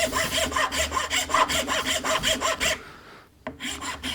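A Japanese rasp is pushed back and forth across wood while hollowing it out, a fast, close and loud series of rough scraping strokes that stops abruptly, followed by a brief knock.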